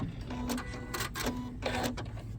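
A sewing machine runs a rolled picot hem on fabric in short mechanical bursts, whirring with faint tonal hums between pauses, close up with no talking.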